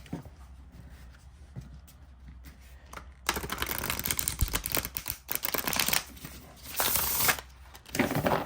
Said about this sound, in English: This is a beautiful shuffle.